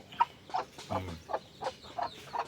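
Pure-bred Thai red jungle fowl, raised free-range around a home, giving a run of short, soft clucks in a steady rhythm, close by and fairly quiet, with no voices over them.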